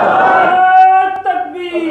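A crowd at a mosque gathering in Ludhiana answers the takbir call with a loud, unified chant, voices rising together in a sustained shout and then a second shorter response.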